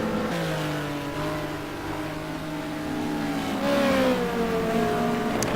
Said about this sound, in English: GT2 cars, Corvette, Ferrari, BMW.